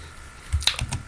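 Several quick, faint keystrokes clatter on a computer keyboard, a short run of light clicks heard alone at close range.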